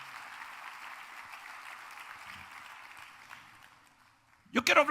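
A church congregation applauds during a Spanish-language service, a broad steady wash of clapping lasting several seconds before fading, followed by a brief voice close by.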